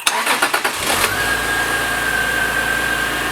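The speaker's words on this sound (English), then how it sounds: "we're ready to go ahead and start the engine and see if it runs" A 2004 Subaru Outback, under repair for an EGR fault, cranks with a rapid rhythmic chugging for about a second, then catches and settles into a steady, close idle with a thin whine.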